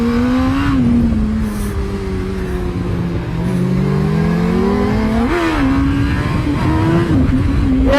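A motorcycle engine roars during a timed run on the Moto Tour 2004 rally, loud and close, its pitch rising and falling as the rider shifts gears and the revs climb and drop.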